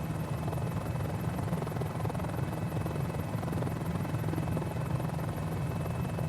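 A Mini-500 helicopter in a flight simulator game gives a continuous, even rotor chop with a steady engine buzz, loud and unchanging throughout.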